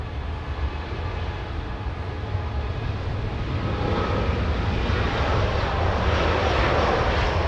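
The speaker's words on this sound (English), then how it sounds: "there goes the Polish Dreamliner." Polish Boeing Dreamliner jet airliner at a busy airport, a broad sustained engine roar that swells slightly louder over several seconds, steady and fairly close with no talk.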